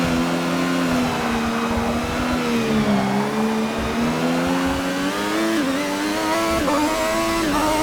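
An F1 race car engine screams in Forza Motorsport 6 at the Nordschleife, loud and continuous, its pitch dipping and climbing with gear changes and throttle.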